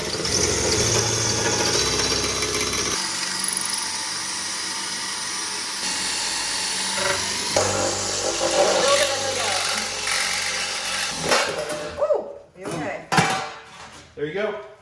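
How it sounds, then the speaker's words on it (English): Rough mechanical grinding and whirring from a power drill running in bursts, ripping out rubber flooring inside a school bus, with clattering noises and short voices near the end. "And when that didn't work, we graduated to the power drill."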